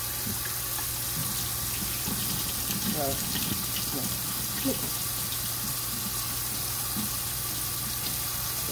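Water runs and gurgles steadily through the tank of a Dreametech wet vacuum as suds are rinsed out, a continuous close splashing wash with a voice speaking briefly over it.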